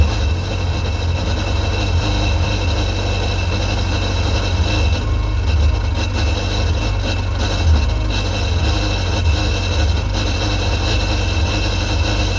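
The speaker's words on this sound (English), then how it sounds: "About to fire her up." A Sea-Doo GTX 951 DI jet ski engine runs on a garden hose after a rebuild, giving a loud, steady, low rumbling idle that carries on without a break. There is no talking.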